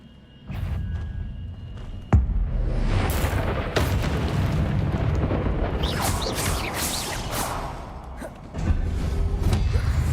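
A magic spell bursts in Hogwarts Legacy with a sudden heavy boom. A loud, rumbling blast follows and carries on for several seconds, with sharp crackling flares and a further thump near the end.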